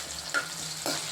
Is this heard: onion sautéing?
yes